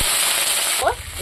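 Water hits hot oil in a cooking pan and sets off a loud, steady hissing sizzle that lasts the whole moment. A brief voice cuts in near the end.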